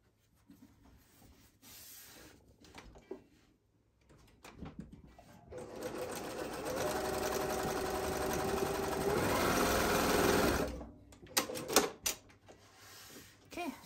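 A sewing machine top stitches pockets onto a tote bag, starting with brief bursts and soft handling noises, then running steadily and fairly loud for several seconds before stopping, followed by a few sharp clicks and taps.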